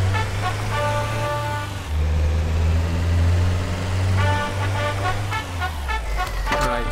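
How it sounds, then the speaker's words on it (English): An ice cream truck in the Just Cause 2 video game plays its horn melody, bright repeating tonal notes sounding in two phrases over a steady low engine drone. "the ice truck has a melody playing"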